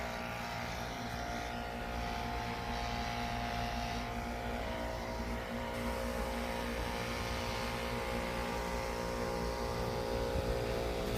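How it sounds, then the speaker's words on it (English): BR700X backpack leaf blower running steadily while clearing a yard, a loud, constant engine drone with a harmonic whine and rushing air, close and unbroken for the whole stretch. "Now I'm gonna blow this yard off with the BR700X."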